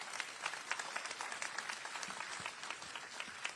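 An audience at a first responders awards ceremony at the Houston Livestock Show and Rodeo gives sustained applause for Robert Howden, a dense, steady wash of many clapping hands with no break.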